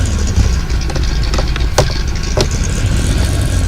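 Volkswagen Beetle (Fusca) engine in Farming Simulator 2015, a loud, steady mid-pitched running drone that holds throughout, with a few brief clicks and knocks over it.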